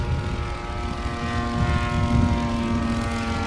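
A 1912 Blackburn Monoplane's vintage propeller engine runs steadily at under half throttle, a continuous droning hum with strong tonal harmonics and no talk over it.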